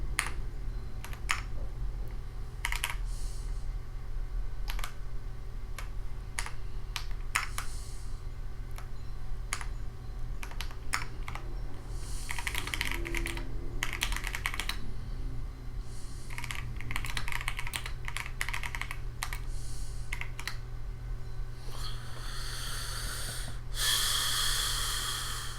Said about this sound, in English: I can't type for shit